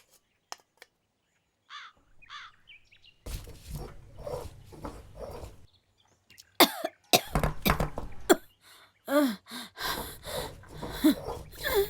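A woman coughs in several harsh, raspy bursts that come in uneven clusters, fairly close, with short silences between them and some background noise.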